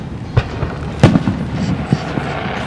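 A fireworks display bursts in the sky with scattered booms and crackling pops, one louder blast standing out, over a continuous rumbling wash of noise.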